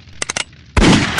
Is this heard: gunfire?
yes